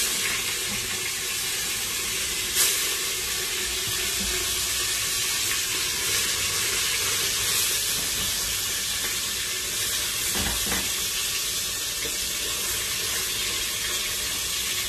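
Flank steak browns in a pan with a constant, dense sizzling hiss lasting throughout, with a couple of faint clicks and no talking.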